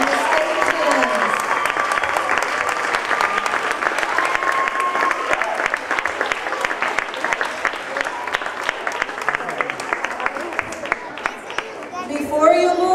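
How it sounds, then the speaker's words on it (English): A school audience gives sustained applause for student actors and stage hands after a play, a dense, steady patter of many clapping hands with chatter and a few raised voices mixed in, tapering slightly near the end. "Another round of applause for all the actors and the stage hands."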